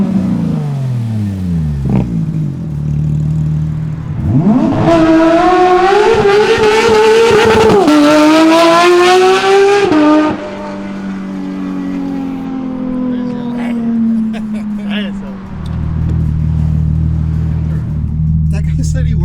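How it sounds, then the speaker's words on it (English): A Porsche GT3 RS fitted with a new loud exhaust idles, then revs hard in a sustained climbing roar that cuts off abruptly, settling back to a rumbling idle before a second surge near the end, very close and loud. "Like I said, the exhaust is done. Sounds insane."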